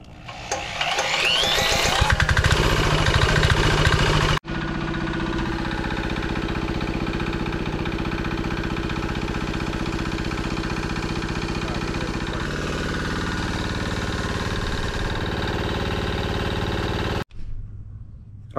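A 196cc diesel engine on a DIY generator runs close and loud, with a rougher, louder burst for the first few seconds and then a steady, even drone that cuts off abruptly near the end.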